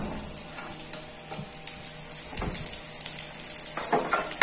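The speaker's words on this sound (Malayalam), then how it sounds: "കോവയ്ക്ക ഫ്രൈ ആയിക്കൊണ്ടിരിക്കുമ്പോൾ തന്നെ നമുക്ക് അരിഞ്ഞു വെച്ചിരിക്കുന്ന ഉള്ളി, പച്ചമുളകും കറിവേപ്പിലയും ഇതിലേക്ക് ഇട്ട് കൊടുക്കാം" Ivy gourd (kovakka) fries in an oil-filled pan with a steady, close sizzling hiss and occasional light clinks of stirring, with no voices.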